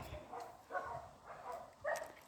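Several shelter dogs bark softly and intermittently in the distance, faint yips and woofs over a quiet background hiss.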